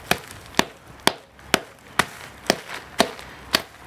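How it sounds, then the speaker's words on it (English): Sharp, close cracks ring out at a steady rhythm, eight in under four seconds, as a quartz rock is smashed and the material breaks up. "Now you can hear that the material is breaking up."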